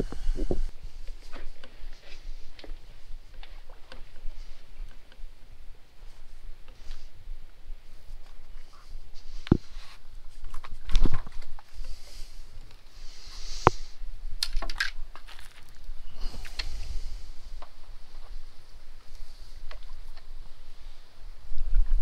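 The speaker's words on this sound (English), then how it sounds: "Let's paddle on out and try not to fall in." Paddleboard paddle strokes on a windy sea offshore in Key Largo, soft irregular splashes and drips with occasional sharper knocks against the board, set against steady wind and water wash.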